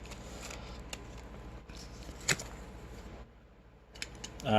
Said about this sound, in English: all I do is with scissors, and I go in from the bottom side